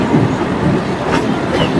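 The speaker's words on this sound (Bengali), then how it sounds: "আমাদের ট্রেন এখন ছেড়ে বেরিয়ে যাবে নেক্সট গন্তব্যের দিকে" The Adra–Barkakana MEMU special train runs on rails with a loud, close, continuous rumble and faint clatter of wheels, with no talk.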